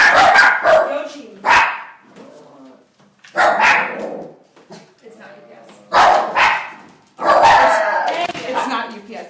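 Several household dogs bark loudly in close, repeated bursts at the door, with a few yips mixed in. A voice speaks over the barking.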